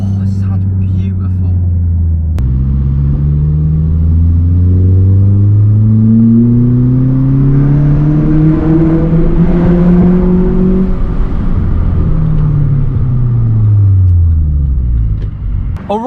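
A Vauxhall Corsa with a new aftermarket exhaust revs hard, its engine note climbing steadily for several seconds, then falling away as it comes off the throttle, loud and close, with someone speaking briefly.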